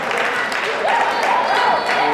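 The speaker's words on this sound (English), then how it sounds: "the fans are out there cheering everybody on" A crowd of fans cheers and applauds at a high school varsity volleyball playoff game, a steady dense roar with shouts and whoops that swells slightly in the second half.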